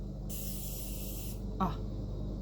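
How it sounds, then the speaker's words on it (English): A fine mist spray bottle of fragrant refreshing body mist sprays in one steady hiss of about a second, followed by a shorter burst, close by over low background hum. "So I don't know if it'll show on the video, but I'll just kind of spray it."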